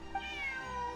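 A cat meows steadily in Genshin Impact, one drawn-out, clear call that holds for the whole moment without any talk over it.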